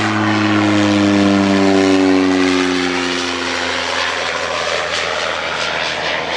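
A Cessna 208 Caravan single-engine turboprop passes the airport, its loud propeller drone falling in pitch as it goes by and fading into a broad rushing roar.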